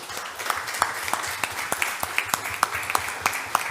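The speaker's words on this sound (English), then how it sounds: "I think that you deserve a good round of applause" Audience members at an innovation and networking event give a round of applause: fairly sparse, distinct claps at a quick, even beat, moderately loud and close, with no voices over them.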